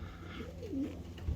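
A flock of young pigeons cooing, one soft low coo rising and falling briefly over a quiet outdoor background.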